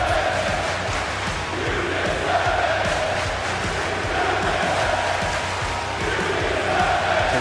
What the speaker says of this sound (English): you listen to this crowd